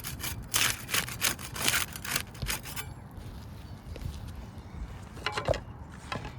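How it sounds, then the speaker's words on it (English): A putty knife scraping under sealed roof shingles to break them loose: close, dry scraping and rubbing strokes, denser in the first few seconds, then softer scrapes with a couple of sharper clicks near the end. "We use a putty knife to unseal the top shingle."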